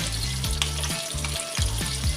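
Fish rubbed with salt and turmeric fries in a wok, a close, even sizzle with a few scraping clatters as pieces are flipped. No one talks.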